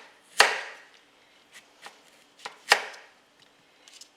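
Kitchen knife slices a firm summer squash into quarter-inch rounds on a cutting board, two loud close chops followed by several softer cuts, irregularly spaced in an otherwise quiet room.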